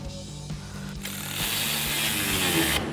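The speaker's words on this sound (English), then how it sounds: "we've got a 13mm socket on a ratchet and a 13mm wrench" A ratchet fitted with a 13mm socket tightens bolts while an Amp Research BedStep is fitted to a 2019–2024 RAM 2500 pickup. The steady, close mechanical clicking and whirring grows louder and denser partway through, with no talking.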